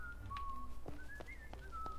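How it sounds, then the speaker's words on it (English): A character in the Disney Dreamlight Valley video game whistles a memorable tune: a thin, clear, gliding melody of a few notes, fairly faint over low background hum with occasional soft clicks. "Someone was just whistling a very memorable tune."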